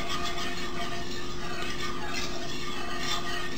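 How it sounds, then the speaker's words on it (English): Spoon scraping and stirring sauce across the bottom of a cooking pan, a steady continuous rasping swirl heard close with a constant background hum and no talking. "You want to scrape up anything on the bottom of the pan"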